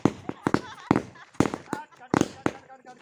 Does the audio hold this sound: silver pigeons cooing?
no